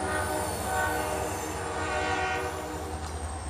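A triple-headed American diesel freight train, pulled by three diesel locomotives, sounds a loud, sustained, chord-like horn that holds steady for several seconds over the rumble of the passing train.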